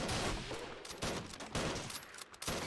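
Mauser pistols fire in a 1919 German Revolution strategy game, Freikorps against Spartacists: rapid volleys of sharp shots crack in quick clusters, some overlapping, at moderate distance.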